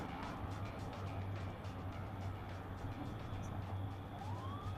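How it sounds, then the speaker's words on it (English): A police siren on a pursuing trooper's car wails at a distance, its rising tone faint beneath a steady roar of traffic and engine noise, with no talking. "Oh, he's got the siren."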